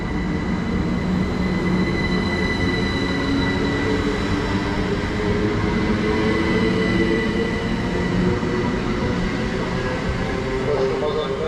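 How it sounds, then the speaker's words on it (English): A Great Western Railway train pulling out toward London Paddington, a loud continuous rumble of wheels and carriages with faint squeals, heard from the platform. "going out now is the 1545 Great Western Railway service"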